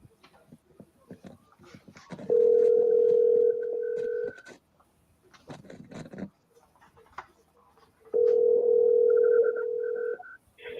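A telephone dial tone sounds as someone calls in on a phone line during a live broadcast, coming in two loud steady bursts separated by a pause, with clicks and faint chatter around them.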